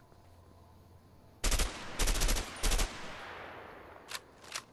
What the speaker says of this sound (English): M60, burst fire assault rifle.